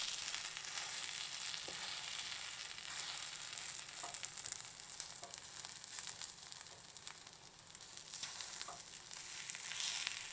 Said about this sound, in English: Use the skewer to gently roll the takoyaki. making sure not to break them.